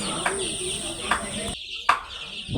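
Young Egyptian Fayoumi chickens, about 15 to 16 days old, make short scattered peeping chirps over a constant high electrical whine, with a voice faintly present.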